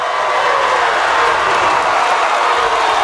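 A high school basketball crowd at a 5A quarterfinal roars after an alley-oop, a dense, loud wash of cheering and applause that holds steady throughout with no clear voices above it.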